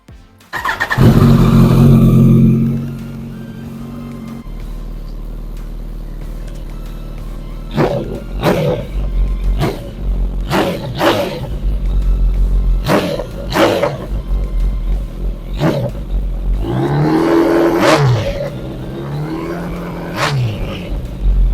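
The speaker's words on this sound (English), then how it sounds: "let's see what this new exhaust sounds like" A Kawasaki ZX14R fitted with a new aftermarket exhaust barks to life with a loud roar, settles into a rumbling idle, then snaps through a series of sharp, throaty revs, bunched tighter toward the end, with no talking.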